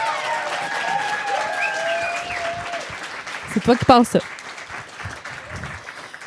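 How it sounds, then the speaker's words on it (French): A small podcast studio audience breaks into applause that fills the first few seconds, then dies away as people start talking. "On peut repartir sur des applaudissements"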